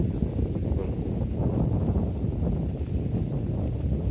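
Strong wind gusting across open rice fields, a steady broadband roar with continuous low rumble and buffeting that fills the whole stretch, with no voices.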